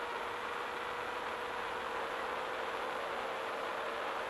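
Homeslice8 model airplane on a 7x7 prop running at full throttle during a speed pass, a constant high buzzing whine with broad noise around it, steady and loud from start to finish, with no voices.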